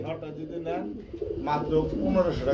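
Low throaty cooing from a black male pigeon, close by, repeated in short rolling phrases with soft background noise.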